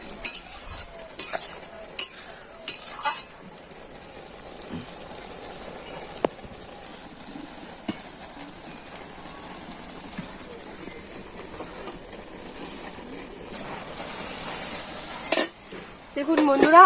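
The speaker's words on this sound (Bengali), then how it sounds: "দিয়ে একটু ভালো করে নেড়ে চেড়ে নেব" A simmering potato and eggplant curry stirred in a pot, with scattered clinks and scrapes of a spoon against the metal over a low bubbling background, a sharper clatter near the end.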